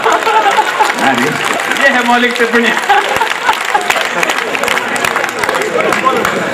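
Audience applause at a Hindi humorous poetry gathering (kavi sammelan), a steady crowd clapping throughout with a spoken voice over it.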